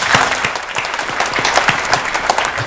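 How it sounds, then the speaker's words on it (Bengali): Loud, dense applause for young prize winners at a Bangladeshi award event, continuous crowd clapping with sharp individual claps close by. "তাদের জন্য জোরে একটা হাততালি দিয়ে"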